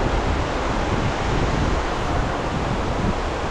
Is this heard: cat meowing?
no